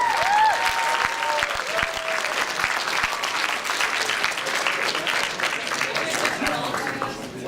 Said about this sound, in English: people will applaud you